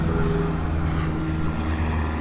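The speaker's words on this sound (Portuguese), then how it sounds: "Tem um avião passando aqui por cima da arena, mas bem alto por lá." A propeller airplane drones steadily high above an arena, a continuous distant hum with low tonal engine lines and no voices over it.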